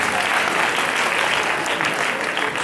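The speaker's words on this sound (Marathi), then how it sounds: "एक टाळ्या लावून दे प्लीज" An audience at a Marathi stage performance applauds in a steady, dense wash of clapping that holds at an even volume from start to finish.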